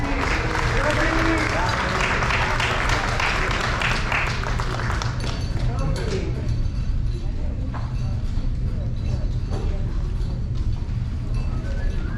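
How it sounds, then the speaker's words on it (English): A crowd claps for cum laude honorees at a senior awards ceremony, with dense applause loudest at first and then thinning to scattered claps, heard fairly near. "Please give another round of applause for our cum laude"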